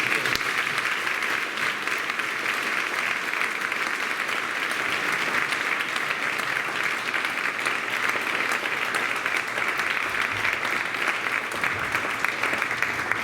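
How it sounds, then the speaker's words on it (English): A school audience at a Veterans Day assembly applauds panel members, a steady, dense wash of clapping that holds evenly throughout without a break. "So let's give the panel members a round of applause."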